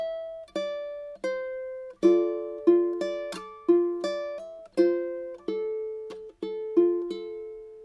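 Fingerstyle ukulele picking a verse bar of a song, a close, clean melody of plucked notes over low bass tones in a steady rhythm, about a dozen distinct attacks alone without talk.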